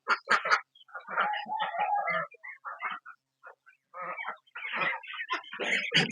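Chickens and chicks clucking and chirping close by, a busy stream of short calls with brief pauses between bursts.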